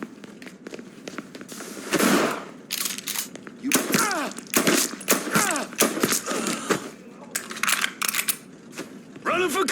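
Bursts of gunfire in the video game Mafia 3 crack out in quick, irregular volleys, loud and close, mixed with mechanical clacks and shouted voices.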